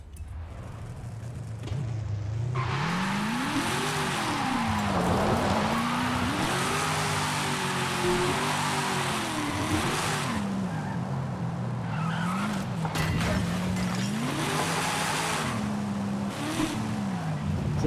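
Hellcat Miata drifting in a racing video game, engine revs rising and falling in waves under continuous loud tire squeal, with a brief voice near the end.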